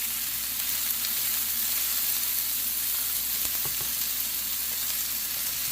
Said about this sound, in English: And we're going to saute the peas and the carrots with the onion.